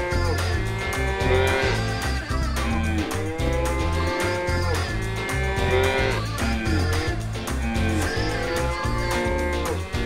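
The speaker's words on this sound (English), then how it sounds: "The cattle are coming here." Cattle lowing in repeated, drawn-out moos over a steady rhythmic musical backing, the calls recurring every few seconds at moderate loudness throughout.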